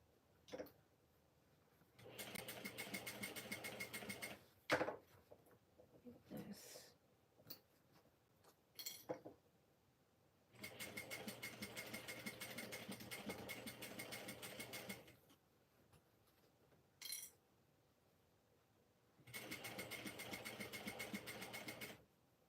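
Sewing machine stitching a zipper onto a small beachcomber pouch, running in three steady, even bursts of several seconds each, separated by quiet pauses and a few light clicks from handling.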